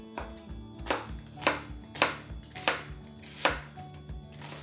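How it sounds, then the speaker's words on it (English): A knife chops lamb stew ingredients on a cutting board into half-inch cubes, with about nine crisp, evenly spaced strokes, close and clear, and no talk. "So we're gonna go about a 1/2 inch on our cubes here."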